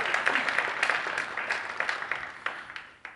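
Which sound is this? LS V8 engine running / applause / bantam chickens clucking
applause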